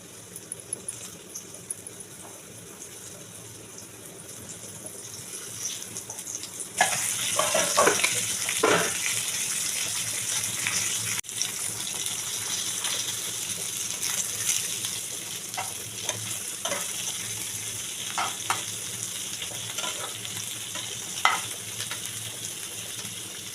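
Coated pomfret fish fries on a hot griddle, giving a dense, continuous sizzle that swells louder partway through and holds steady, with occasional faint crackles and pops, close by with no talking.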